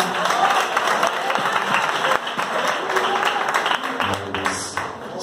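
A church congregation at an Assembleia de Deus service claps in a loud, dense burst of applause, sustained with a few sharper claps standing out before it thins slightly near the end.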